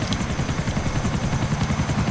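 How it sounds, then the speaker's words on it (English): Steady rapid rotor thump of a helicopter in modded GTA 4, continuous and fairly close, with no talk over it. "So let's kill this chopper before he kills us."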